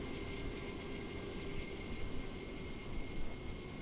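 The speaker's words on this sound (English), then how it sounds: "all of that should come back with the APU, which you can hear out here" Auxiliary power unit of an Inibuilds A350-900 running in a flight simulator, a steady, broadband turbine whine and rumble holding an even level throughout, with faint tonal hums layered over it and no talking.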